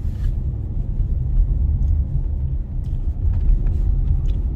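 Steady car traffic on the A5 in London at rush hour, a continuous low rumble of engines and tyres heard from inside a moving vehicle, with no voices.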